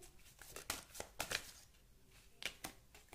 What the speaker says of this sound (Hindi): Let me pull out some more cards for you.